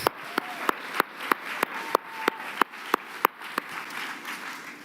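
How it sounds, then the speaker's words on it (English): Audience applause at the NABJ opening ceremony honours Karamu House, heard as quiet, evenly spaced claps in a steady rhythm, roughly three per second, over a soft hush. "How about another round of applause for our very own Karamu House?"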